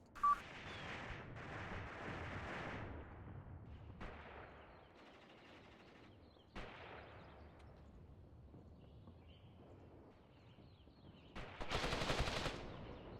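Anti-tank guns fire in the WWII strategy game Mius Front, sharp reports and rattling bursts recurring at intervals, with a louder cluster of shots near the end, no talk.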